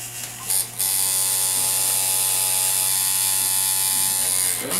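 Ground Zero tattoo machine running with a steady, loud electric buzz and high whine close up, continuous for the whole span with a brief shift near the start.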